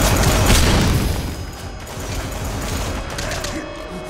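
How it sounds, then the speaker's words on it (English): Rapid, overlapping shotgun blasts from a glitched coach gun in Metal Gear Solid V: The Phantom Pain, a dense booming barrage that is loudest early and then fades into lingering rumble. "Fear my 100 barrel coach gun!"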